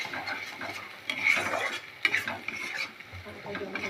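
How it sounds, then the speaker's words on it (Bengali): Spices for mutton curry stir-fried in a pan, a soft sizzle under repeated scraping strokes of a spoon against the metal, with a few louder clinks, close and fairly quiet. "আমরা আরও কিছুক্ষণ মশলাটা ভালোভাবে কষিয়ে নেব।"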